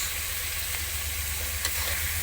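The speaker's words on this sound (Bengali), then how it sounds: "সব ভালো মতো নেড়ে নিচ্ছি" Chicken fried rice stirred steadily in a hot pan, sizzling and frying throughout with a constant hiss and a few scraping touches, close and moderately loud, with no talking.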